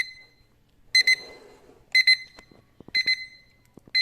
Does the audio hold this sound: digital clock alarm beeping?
yes